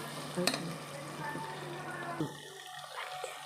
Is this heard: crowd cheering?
no